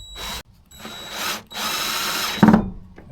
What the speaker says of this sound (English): This is a drill and a countersink in one great tool.